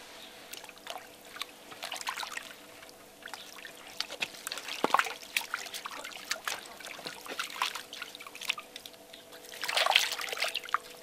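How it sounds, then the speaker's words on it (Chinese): Hot water from scalding feathers is poured and splashed over a fire-singed duck in a rural farmhouse, with a soft continuous trickle and dribble, intermittent splashes, and a louder slosh near the end, fairly quiet and close. "用火烧过之后，我们要用这个刚才烫鸭毛的这个水来洗一遍，它这样可以去腥味"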